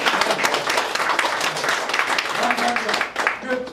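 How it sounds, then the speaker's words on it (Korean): Members at a clan association general meeting clap together to approve a fundraising proposal, a dense, steady patter of many hands filling the room, with a few voices murmuring underneath. "이 지금 이 모금 안은 박수로 찬성하십니까?"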